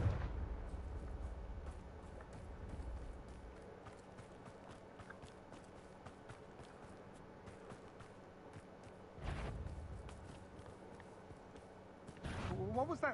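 Confringo spell blasts in the Hogwarts Legacy game, a booming explosion at the start, then quieter rumbling, with two more heavy blasts around the middle and at the end, over a low game background.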